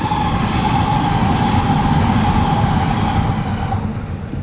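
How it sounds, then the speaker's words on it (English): A passing train, bound for Sydney, rumbles loud and steady with a sustained tonal whine above the broad low roar, holding level throughout with no voices. "where's that train going, viewers?"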